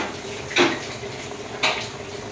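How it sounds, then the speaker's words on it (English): Two light metallic clanks about a second apart as a lid is set onto a cooking pot while making paneer tikka masala, heard alone over a low steady kitchen hum. "So we'll put the lid on."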